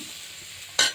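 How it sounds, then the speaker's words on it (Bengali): Meat sizzles in a pan with spices, a steady frying hiss, then a sudden loud scrape as it is stirred near the end. "মাংস বসিয়ে দিলাম, সব মশলা দিয়ে একবারে ভালো করে কষিয়ে"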